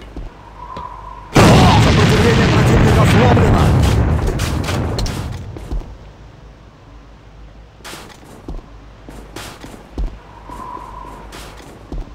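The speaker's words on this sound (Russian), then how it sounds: "Граната противника!" An enemy grenade blows up in A.V.A: a sudden loud blast with a rumbling tail that fades over several seconds, followed by scattered sharp shots and a faint beeping tone.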